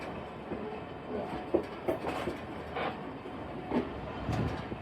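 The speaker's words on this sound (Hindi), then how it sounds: "4:18 पे 6 मिनट के क्रॉस के बाद हमारा डिपार्चर हो रहा है पाली के स्टेशन से।" Shah Hussain Express passenger train pulling out of Pali station, heard from inside a carriage as a low rumble with occasional clanks and knocks and no voices.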